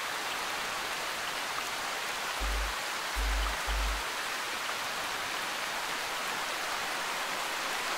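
Steady rain hisses evenly in the Arma 3 Antistasi game on Altis, a soft constant wash with a few brief low thumps partway through.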